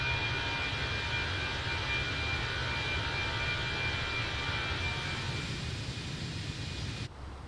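CFM jet engines on a Fenix A320 airliner in Microsoft Flight Simulator give a steady, broad roar with a faint high whine, heard from outside at constant power, dropping slightly right at the end.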